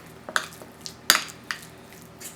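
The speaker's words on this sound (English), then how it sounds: "Make sure the butter and the garlic is mixed well." Butter and garlic being mixed in a bowl for garlic bread: a handful of light, irregular clinks and scrapes of a utensil against the bowl, close and fairly quiet, with no talking.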